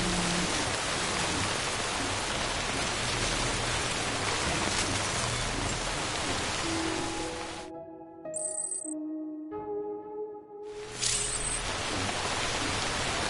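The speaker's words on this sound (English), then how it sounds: "No end to this rain." In the video game Death Stranding Director's Cut, a long stretch of constant, close rain noise gives way to a few seconds of gentle droning tones and a high chime before the rain rushes back.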